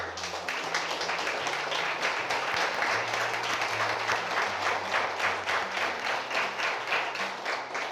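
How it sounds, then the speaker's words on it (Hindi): A seated training-session audience at an insurance agency seminar claps for themselves, a dense, steady round of applause lasting several seconds with no break, close and even throughout. "अपने लिए तालियां बजाओ।"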